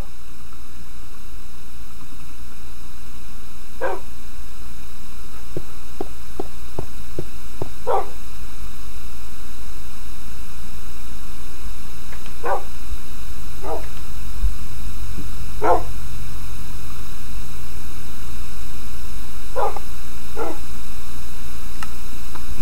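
Dogs in the video game Minecraft: scattered short barks and yips, some in quick bursts, over a constant steady hum throughout.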